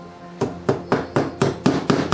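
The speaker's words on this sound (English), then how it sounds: "Hold that in the hole and hit it with the hammer." A small hammer tapping a small model railway track pin, eight sharp, evenly spaced taps, close and crisp, with no voices.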